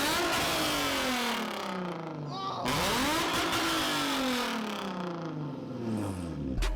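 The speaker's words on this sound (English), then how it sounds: "get more notes out of their vehicle by doing a straight pipe, which in turn produces a tone that is extremely raspy and obnoxiously loud" Nissan 350Z with a straight-pipe exhaust revs hard and close, with a raspy, very loud tone that climbs and falls in long sweeps while a voice talks over it.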